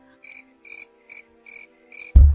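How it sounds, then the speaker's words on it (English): Cricket chirps in a steady series of about six short, even bursts, moderately close, ending abruptly in a loud low thump. "The crickets!"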